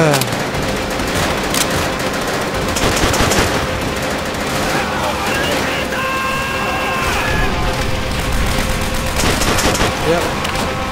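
Rapid machine-gun bursts and rifle fire fill a World at War battle, loud and continuous across the scene, with shouted voices mixed into the din of the firefight.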